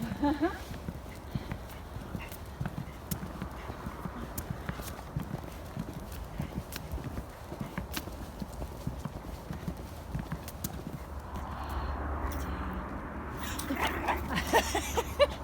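Horses in a field along a countryside dog walk make a busy clip-clop of hooves alongside a dog, with rustling and outdoor ambience, moderately close, as people talk nearby.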